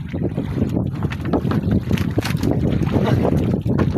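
Strong northeast monsoon wind buffets the microphone aboard a boat at sea, a loud, steady roar with gusty surges and splashing water, and no speech over it.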